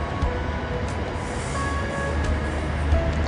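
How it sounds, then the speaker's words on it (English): Freight train travelling from Perth to Adelaide on the transcontinental line, rumbling steadily past at moderate distance with a continuous low roar and faint metallic squeals. "that's a freight train going from Perth to Adelaide"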